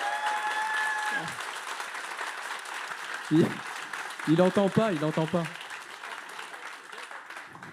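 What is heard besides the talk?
audience applause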